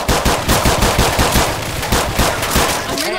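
Rapid automatic gunfire in Left 4 Dead 2 sounds as a loud, close, unbroken burst of evenly spaced shots over about three seconds.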